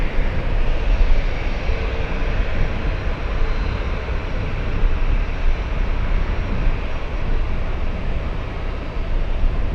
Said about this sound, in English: We have Delta Airlines flying in from Amsterdam. That's Delta's 243.